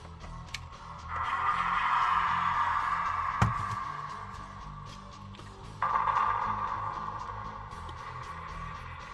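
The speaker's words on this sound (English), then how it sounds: "So that's the sound of the separation that's happening" Sound effect from a Playmates 2023 USS Enterprise NCC-1701-D toy as the saucer separates from the secondary hull: a sustained electronic whoosh with a sharp click partway through, then a second swell of the same hum.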